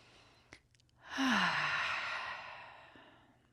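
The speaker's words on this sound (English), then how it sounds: "Now, just take a few more full deep breaths." A single full, deep breath during a relaxation exercise: a soft click, then a long audible sigh-like exhale that swells and slowly fades, close and quiet with no talk.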